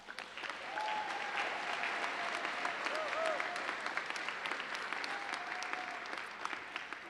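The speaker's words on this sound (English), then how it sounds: "Let's give them a round of applause." Steady applause from a large crowd at a university commencement ceremony at A&M-Victoria, sustained clapping heard from a distance and fairly quiet, with faint voices mixed in.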